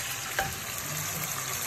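Chicken pieces fry in a pan of hot oil, giving a loud, continuous crackling sizzle close by.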